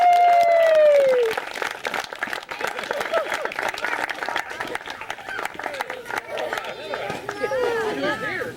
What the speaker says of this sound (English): Let's have a round of applause for our contestants.